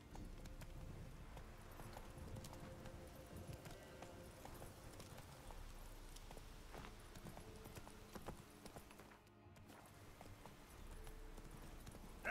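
In The Witcher 3, Geralt's horse Roach clip-clops along steadily, hooves striking in a continuous rhythmic trot with game ambience beneath, briefly pausing near the end before resuming.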